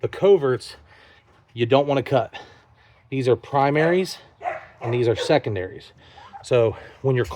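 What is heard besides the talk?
No everyday noise stands out behind the speech.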